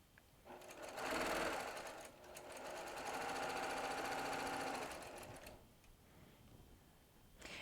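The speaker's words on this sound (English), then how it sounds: "this machine, this PQ 1500, it's a brother machine, is really fast" A Brother PQ1500 sewing machine stitches fast, a dense steady mechanical whir that swells, dips briefly, runs on evenly, then stops, leaving quiet room tone.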